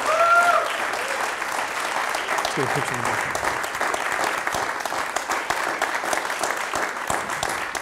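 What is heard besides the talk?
applause at a U.S. Navy all hands call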